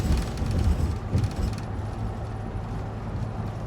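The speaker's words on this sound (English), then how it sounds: "That thump, thump, thump, thump, thump. That's the sound of a Louisiana road." A car drives over a rough Louisiana road, with a low rumbling road noise and irregular bumps from the tires. The bumps are heaviest at first and then settle into a steadier hum.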